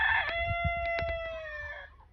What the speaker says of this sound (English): And that rooster is saying, you better keep walking.